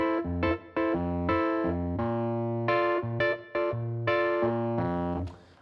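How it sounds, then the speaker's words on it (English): A Scarbee A200 electric piano from Native Instruments, treated with distortion and reverb, plays a rhythmic pattern of repeated chords with short gaps between them. It is bright and alone, with no voices. "So this is Scarby A200 from Native Instruments, and it's just meant to be an electric piano of sorts."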